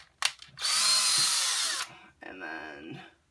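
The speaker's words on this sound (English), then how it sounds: "Drill these rivets" Power drill boring rivets out of a custom 1/50 scale Cat 336 excavator model, a close, loud whine that sustains for about a second, then a second, softer burst of drilling.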